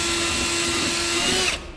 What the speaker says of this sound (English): Now we'll drill a pilot hole in the center where we marked.